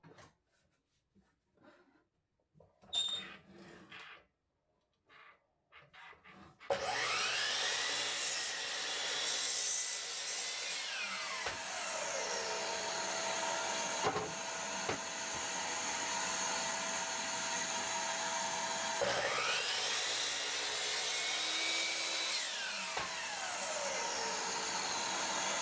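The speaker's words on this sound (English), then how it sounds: "Trim off both sides on the miter saw." Miter saw trimming the ends off 2x4 lumber: a few quiet handling knocks, then the motor spins up to a loud whine with several cuts biting through the wood, each one dipping and rising in pitch.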